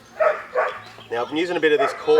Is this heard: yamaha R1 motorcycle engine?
no